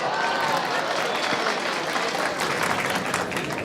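Audience applause at a public talk, a dense, steady wash of clapping from a crowd that holds loud and even throughout.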